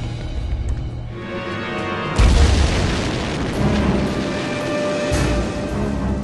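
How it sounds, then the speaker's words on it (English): A one-kilogram bomb with a timed fuse detonating in a meeting room: a sudden loud boom breaks over a low rumble, followed by a sustained roaring blast that swells again before slowly decaying, with no talk. "He had watched the explosion from a short distance away"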